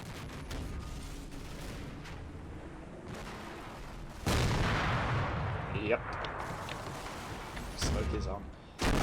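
Mortar and artillery rounds firing in the Combat Mission wargame, with sharp booming reports and a sustained rumble of incoming fire, several loud bursts layered over continuous battle noise while someone talks.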